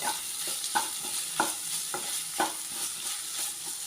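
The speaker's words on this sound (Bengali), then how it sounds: "নারকলটাও মশলার সাথে এখন কিছুক্ষণ ভেজে নেব" Grated coconut frying with spices and papaya in a pan, a steady soft sizzle running throughout with several distinct stirring scrapes at regular intervals, close and fairly quiet.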